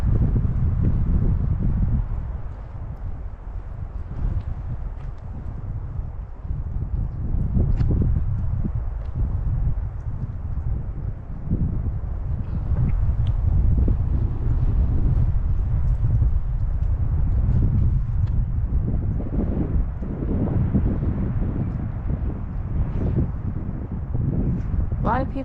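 Steady wind buffeting the microphone at Willow Springs Lake on Arizona's Mogollon Rim, a loud continuous low rumble with gusty swells throughout, with a voice talking faintly underneath.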